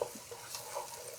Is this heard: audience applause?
no